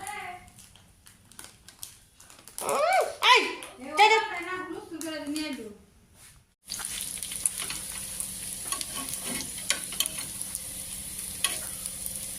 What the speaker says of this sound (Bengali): চিংড়ি মাছ দিয়ে বড়া বানাইতেছি